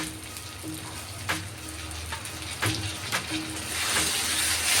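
Tomatoes fry in a pan with ginger garlic paste, producing a steady close sizzle punctuated by a few sharp clicks and scrapes of a utensil, with the hiss growing toward the end.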